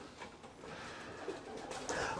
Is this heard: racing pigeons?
yes